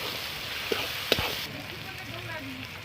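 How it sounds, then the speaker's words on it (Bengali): Chopped onion fries in oil with salt and ginger-garlic paste, giving a steady soft sizzle with a couple of sharp clicks from stirring early on. "এখানে আমি পেঁয়াজটা ভালো করে একটু ভেজে নেব।"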